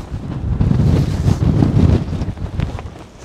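Loud gusting wind roars across a hilltop in the Cheviot Hills, Northumberland, rumbling against the microphone in swelling waves that ease off near the end, with no one speaking.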